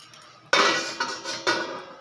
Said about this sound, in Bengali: এবারে আমি ঢাকনাটা খুলে দেখব সেদ্ধ হয়ে গিয়েছে কিনা।